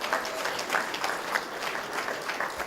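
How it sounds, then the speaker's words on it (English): Sustained applause from an awards audience honouring prize winners at an institute ceremony, dense steady clapping with no talk, moderately loud throughout. "So can we give them another round of applause?"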